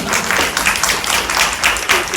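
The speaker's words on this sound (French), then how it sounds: "on peut l'applaudir." Steady applause from a conference audience in Langeac, France, after a presentation on breast and uterine cancer prevention, a dense wash of clapping that holds evenly for a couple of seconds.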